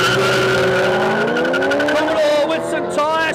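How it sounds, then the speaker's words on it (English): Drag racing on a no-prep airstrip as a Ferrari runs against a Holden Commodore, which spins its tyres; loud, steady engine drone with rising whine and tyre noise throughout, heard close. "Commodore with some tyre spin."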